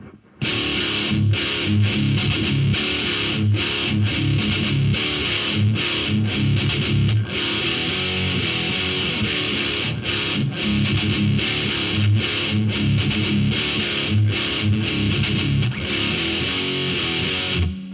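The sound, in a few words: heavy metal electric guitar riff played slowly with distortion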